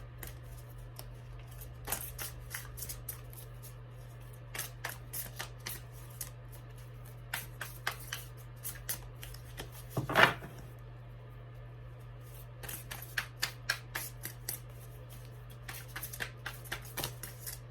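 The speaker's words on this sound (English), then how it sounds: "This is literally how I shuffle" Intermittent riffling and snapping of cards being shuffled, quick bursts repeating over a low steady hum, with one louder slap midway.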